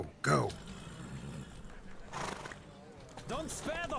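Horses racing in The Witcher 3, with whinnies and neighs over a steady rumble of hooves and game sound, punctuated by a few sharp, bright calls near the start and end.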